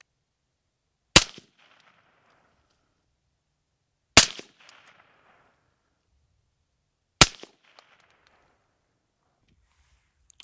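Three loud, sharp rifle shots fired at targets on a range, spaced about three seconds apart, each a sudden crack followed by a brief fading echo, with near silence between them.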